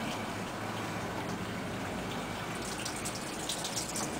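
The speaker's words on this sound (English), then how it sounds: "Then I'm going to just flush it out a little bit." Water flushes steadily out of a boat's sea strainer, a dense, continuous splashing gush close by that runs without pause.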